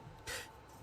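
Short single hiss of makeup setting spray misted into the air, faint and close, lasting a fraction of a second.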